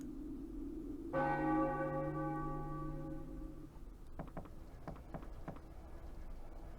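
A church bell in the Final Fantasy 9 video game strikes once, loud and ringing with a long fading hum, followed by a few faint, quick knocking taps.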